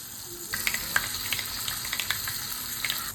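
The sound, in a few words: mustard seeds frying in coconut oil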